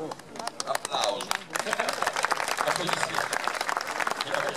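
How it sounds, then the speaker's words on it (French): Applause from a crowd, with a few loud claps and voices at first, then sustained steady clapping with chatter underneath. "Applaudissements."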